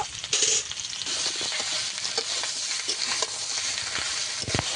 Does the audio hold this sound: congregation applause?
no